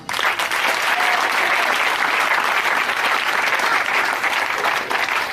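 Dense, loud applause from a church convention congregation, sustained clapping that fills the whole stretch evenly without a break, with no voices standing out.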